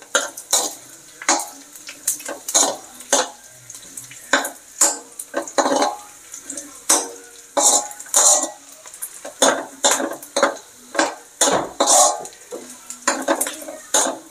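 Sautéed chayote shoots stirred in a pan, a steady run of scraping and clinking utensil strokes against metal over a light sizzle, close and fairly loud, with no talking.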